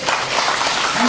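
Brief, loud burst of applause from a crowd of residents at an information meeting on a street-housing redevelopment project, with no talking over it.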